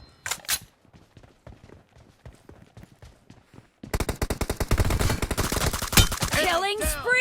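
Rapid automatic gunfire from M416 and Scar-L rifles in a team deathmatch video game, quieter bursts with brief voice callouts at first, then a loud, dense fusillade of continuous shots.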